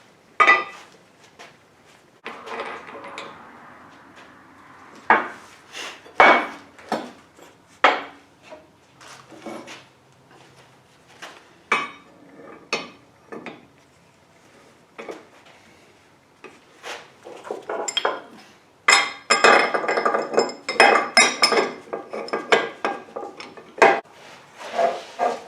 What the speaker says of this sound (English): I'm going to go and put the upper ball joint in first.